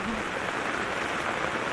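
Heavy rain pours steadily during a typhoon flood, a dense, even hiss of falling water with no breaks, close and loud throughout.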